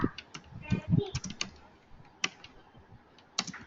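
Fingers tap a computer keyboard in short irregular bursts during a Core Java programming session, close and crisp, with brief pauses between clusters of keystrokes and no talk.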